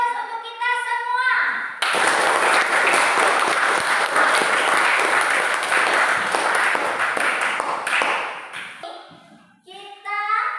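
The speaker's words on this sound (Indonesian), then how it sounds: "Beri aplaus untuk kita semua." A classroom of students applauds together for about six seconds, a dense, loud burst of clapping with a teacher's voice talking before and after it.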